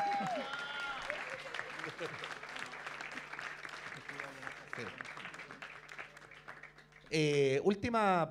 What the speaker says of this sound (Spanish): Aplausos para Alessandro también, por favor